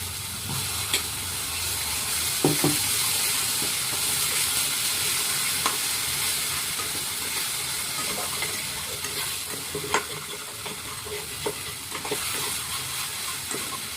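Chilli and tomato paste frying and stirred in a pan, a steady loud sizzle and hiss with scraping stir strokes throughout, no talking.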